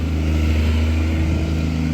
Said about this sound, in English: You can hear it surging a little bit.